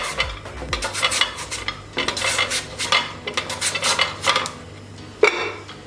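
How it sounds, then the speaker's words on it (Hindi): Repeated bursts of a cutter slicing through peeled potatoes into pieces on a kitchen surface, close and rhythmic, with light clinks of utensils and dishes between cuts. "अब हम आलू को स्लाइसेस काट लेते हैं।"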